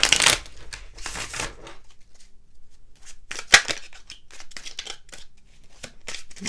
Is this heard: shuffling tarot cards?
yes